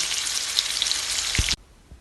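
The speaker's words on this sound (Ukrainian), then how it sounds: "тепер будемо жарити з кожної сторони до готовності" Steak frying in a pan, a bright close sizzle with a few pops and crackles that cuts off abruptly after about a second and a half, followed by near quiet.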